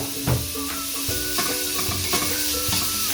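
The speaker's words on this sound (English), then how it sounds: "I put a tablespoon of oil. Then you add in your green pepper." Green pepper fries in a tablespoon of oil for a vegetable Spanish omelette, with a continuous close sizzle and repeated scrapes and knocks of a utensil stirring in the pan.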